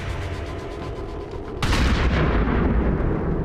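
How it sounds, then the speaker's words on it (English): A shotgun blast in the XCOM 2 video game booms suddenly partway through, loud and close, over a low rumbling game soundscape, then lingers as a heavy decaying roar with no voices. "Shotgun shot missed, which is unfortunate."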